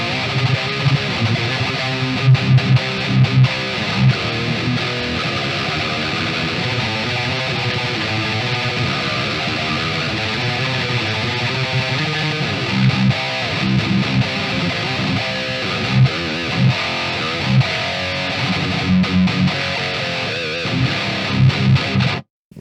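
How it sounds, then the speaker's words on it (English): A heavily distorted electric guitar tone from the Revolt DSP Evo metal amp simulator chugs and rings continuously for the whole stretch, thick, chewy and aggressive, with no voices over it. "It's just got that absolute, like, devastating sort of chewy distortion to it."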